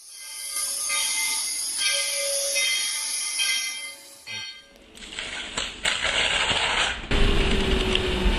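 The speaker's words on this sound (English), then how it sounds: "a tourist train brakes just in time to avoid disaster" A tourist train in southern Minas Gerais brakes hard on the tracks: loud hissing and tonal squealing for several seconds, then clattering, banging and grinding as it slows.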